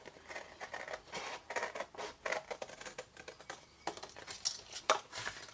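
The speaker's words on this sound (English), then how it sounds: "Now, I'm using my big scissors." Large scissors snip through paper close by while cutting a box, a quick run of crisp, uneven cuts with a rustle of paper between them.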